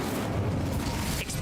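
Incendio fire spell cast in Hogwarts Legacy, a dense rumbling whoosh of flame that holds steady for about a second and a half, loud and close, with a brief flare near the end.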